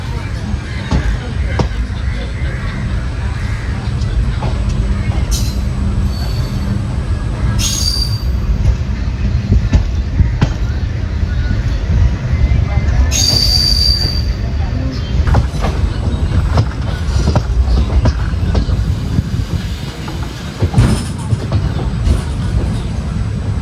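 A train runs on the rails near Edakkad railway station in Kannur, a loud, steady rumble that fills the whole stretch, with brief high wheel squeals now and then.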